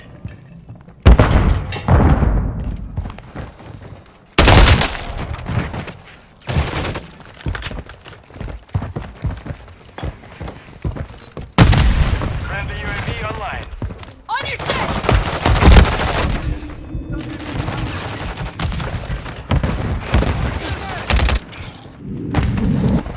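Call of Duty: Modern Warfare III gunfire, loud close bursts of rapid shots and heavy booms in uneven clusters separated by quieter gaps, with shouted soldier callouts in between.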